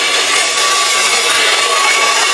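A Lily England lightweight hair dryer runs continuously up close, a loud steady airy whoosh with an even high whine and no breaks.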